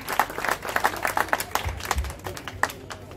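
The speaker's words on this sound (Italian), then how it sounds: "Terzo classificato con 111 voti, la pasticceria Marigliano, a cui va un applauso." Crowd claps for the third-place pastry shop Marigliano at a panettone competition, a close, loud burst of many hands with distinct individual claps, fading somewhat near the end.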